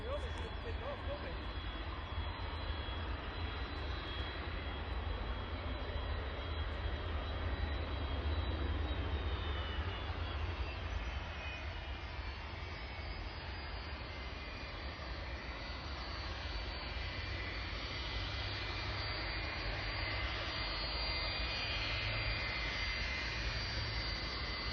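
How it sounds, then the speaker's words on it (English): DHL cargo jet landing at Edinburgh airport, a continuous roaring engine drone with a high whine that shifts in pitch as it passes, while people talk nearby. "First time I'm seeing a DHL landing"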